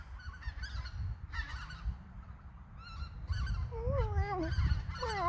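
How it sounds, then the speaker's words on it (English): Several geese honk outdoors in short repeated bursts, some overlapping, against a low rumbling background, getting louder toward the end. "We have some geese here."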